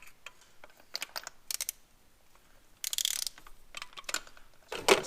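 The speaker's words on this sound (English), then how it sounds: "Got our torque wrench set to 22 pounds." A torque wrench clicks and ratchets on a BMW E46 spark plug, with several short bursts of metallic ticking separated by quiet gaps, and a louder cluster of clicks near the end.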